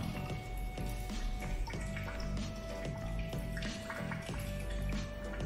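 Water pours and drips into the cooling tank of a CO2 laser machine, a steady trickling with irregular drips and gurgles, moderately near and alone under a faint electrical hum.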